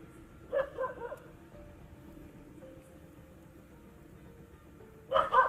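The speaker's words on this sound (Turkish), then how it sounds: "Öndeki köpek gördü galiba, o yüzden havlıyor." A dog barks twice outdoors, with a short burst of barks near the start and another near the end, moderately distant over low, steady background noise.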